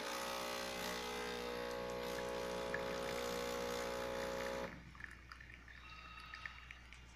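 A faulty coffee machine's pump hums steadily as it dispenses water into an espresso cup for several seconds, then cuts off abruptly, leaving quiet room tone with a few faint clicks.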